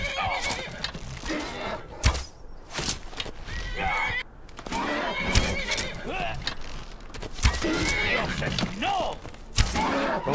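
Sombra the horse neighs in the Skyrim video game, with several loud whinnies and snorts over thumping hoof steps and scattered impacts, while someone talks intermittently.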